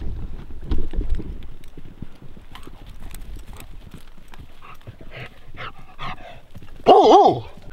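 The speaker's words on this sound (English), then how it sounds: "This is Calvin's dog, Brave." A dog, a big camp companion near a hot spring, gives a loud bark or yelp near the end, after a stretch of footsteps, wind and shuffling outdoor noise.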